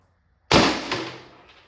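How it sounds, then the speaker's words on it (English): A single sharp shot from an Umarex Glock 17 Gen5 .43 cal marker firing a steel ball bearing, a loud close crack with a brief metallic echo trailing off, heard alone. "When I shoot the steel ball bearings, the marker doesn't lock back on the last shot."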